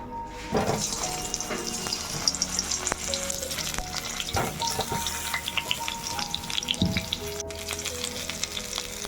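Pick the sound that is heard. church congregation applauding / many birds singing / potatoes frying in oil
potatoes frying in oil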